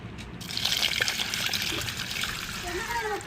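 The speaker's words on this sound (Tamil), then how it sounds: "இப்போ பருப்பை வந்து தண்ணி ஊற்றி களைஞ்சி எடுத்துக்கிறோம்." Water is poured over lentils and swished as they are rinsed for sambar, a continuous close trickling and splashing heard alone.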